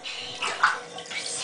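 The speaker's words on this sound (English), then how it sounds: "Splish splash, I was" Water sloshes and splashes in a bathtub during a child's bath, a brief close run of gentle splashes with one sharper slap near the middle.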